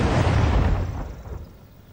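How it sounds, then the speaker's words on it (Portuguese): Heavy artillery explosion during a siege of a Portuguese city by French forces in the Napoleonic era: a loud, deep boom with rumbling debris that decays over two seconds. "Neste momento, o duelo de artilharia atinge a sua maior intensidade."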